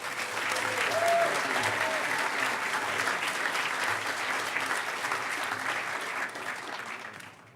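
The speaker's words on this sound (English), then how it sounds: "we have to give a round of applause to the security staff" An audience applauds steadily at a hacker conference's closing ceremony, dense clapping from a large crowd that holds for several seconds before tapering off, with a few faint voices mixed in.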